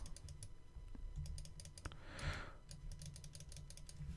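Computer keyboard keys pressed during hair-retouching image editing, a quick run of light clicks and taps, fairly quiet and close, with a brief soft rustle in the middle.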